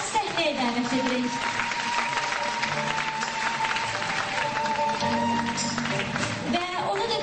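An audience claps steadily through a stage event as a performer is welcomed on; the dense, continuous applause fills the hall, with a voice or tonal music ringing over the crowd.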